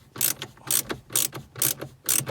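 Ratcheting screwdriver unscrewing the head unit screen of a BMW F20/F21 1 Series, a few short bursts of clicking in a steady rhythm, close and alone.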